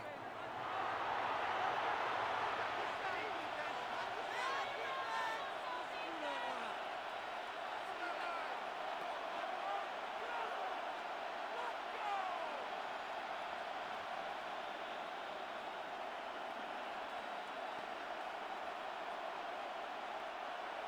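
A stadium crowd in the American football game Madden 26, during Seahawks vs 49ers, makes a steady broad roar that swells slightly early and holds without break, with a commentator's voice running over it.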